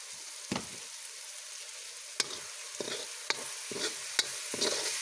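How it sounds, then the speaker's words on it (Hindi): Ground red chili stirred into masala frying in a pan, a steady soft sizzle broken by about seven distinct scraping strokes of a spoon, close and with no talk. "पिसी हुई और पहले मिर्च है उसको डालेंगे और इसको अब अच्छे से मिला लेंगे"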